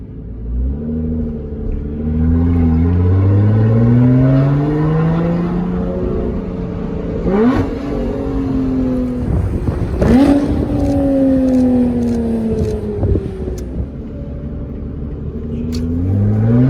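A 2021 Lotus Evora GT accelerates hard and close, its engine note sweeping up through the gears with sharp shift breaks, then easing off into a lower rumble.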